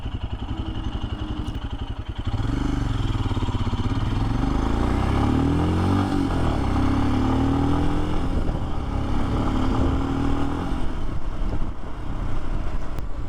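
A 2023 Royal Enfield Scram 411 motorcycle engine runs at a low steady pace for a moment, then swells into a loud, continuous, throaty drone while the bike is ridden, heard close up with no voices.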